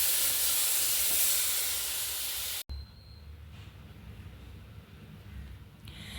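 Raw beef tipped into a pan of hot fried masala with coriander, chilli and turmeric powder gives a loud, broad hiss and sizzle that suddenly cuts off, followed by a quieter steady frying with a faint clink near the end.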